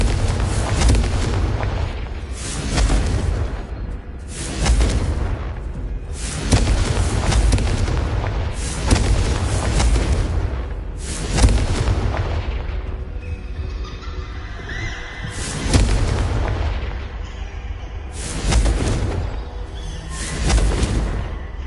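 Confringo fire spells in the Hogwarts Legacy video game blast again and again, loud booming explosions arriving every second or two with rumbling tails, and no talking.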